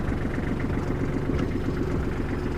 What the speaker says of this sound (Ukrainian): Давайте заведемо тракторець, послухаємо двигун